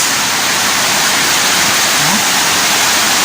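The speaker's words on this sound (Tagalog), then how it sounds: "Grabe ulan ka-listeners." Heavy rain pours down in a steady, dense roar that fills the whole moment evenly, close and loud, with no voices or breaks.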